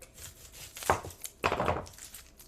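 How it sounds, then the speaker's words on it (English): An onion sliced with a knife for a coconut lentil cauliflower soup: two soft, separate chops on a board against a quiet room, close and fairly faint. "And now my way to cut an onion"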